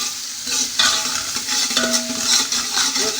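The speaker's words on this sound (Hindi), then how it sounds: "ये देखें, ताकि इसकी भुनाई हो जाए, इसके अंदर कच्ची कच्ची स्मेल ना हो।" Ginger paste frying in a pot for kadhi pakora while being stirred, a steady close sizzle with scraping and stirring strokes throughout, no voices.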